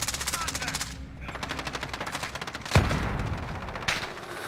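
Rapid automatic gunfire in a hardpoint match of a shooter video game, dense bursts of machine-gun fire with a loud impact or explosion midway and another burst near the end, a brief in-game voice callout mixed in.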